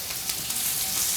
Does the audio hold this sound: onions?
yes